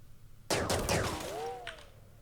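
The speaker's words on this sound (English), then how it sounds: "I can hear gunfire." Gunfire in the RimWorld video game, a sudden volley of several sharp shots in quick succession followed by a short whistling tone and a faint later pop, with little talk.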